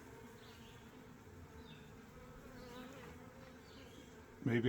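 A bee swarm buzzes in a continuous, fairly faint drone with individual bees passing close now and then, ending in a brief louder rustle.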